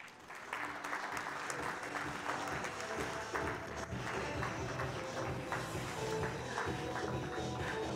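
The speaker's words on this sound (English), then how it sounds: "I want you to bring your hands together and clap for David Mahdi, Vaughn, Hazen," An audience at the CISO Forum 2024 cybersecurity conference gives sustained applause, many hands clapping in a thick, even patter that starts quickly and holds at a moderate, slightly distant level throughout.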